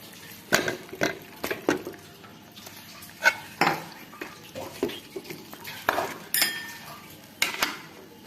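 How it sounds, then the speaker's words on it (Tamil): Chicken being stirred in a pan while sautéing for a chicken gravy: repeated sharp metal clanks and scrapes of a utensil against the pan, at an irregular stirring rhythm, close and fairly loud, with no talking. "இப்ப எடுத்து வச்ச சிக்கனை சேர்த்துக்கலாம்"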